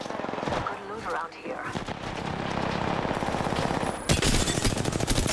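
Rapid bursts of video game gunfire rattle almost without pause, loud and close, with excited player chatter over them and a sharper, louder barrage near the end.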